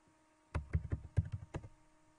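Fingers tap on a laptop keyboard in a short, irregular run of about a dozen close, soft clicks, with quiet before and after.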